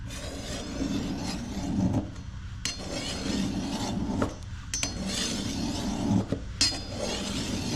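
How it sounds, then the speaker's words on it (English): A file rasps along a machete blade at an angle in repeated scraping strokes, with metallic rubbing and occasional sharp clinks, close up and steady, with no voices. "run the blade, the file at an angle towards the direction of the blade"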